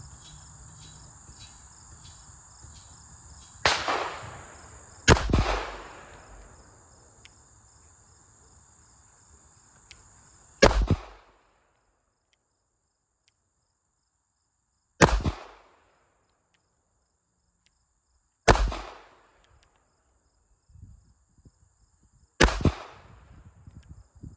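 A Ruger LCP .380 pistol fires 95-grain rounds outdoors, six sharp loud shots spaced a few seconds apart, with insects chirping steadily in the background at first.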